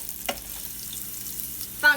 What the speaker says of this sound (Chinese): 开大火倒油，放蒜末